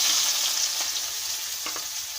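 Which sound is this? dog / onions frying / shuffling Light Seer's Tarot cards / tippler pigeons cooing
onions frying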